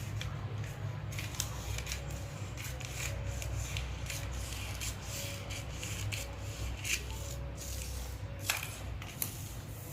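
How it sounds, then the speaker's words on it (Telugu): Tailoring scissors snip through cloth in a series of quick, close, fairly quiet cuts over a low steady background hum, during a basic tailoring lesson on cutting a garment. "పైన అండ్ ఇక్కడ రిమైనింగ్ది కూడా మనం కట్ చేసేసుకోవాలి."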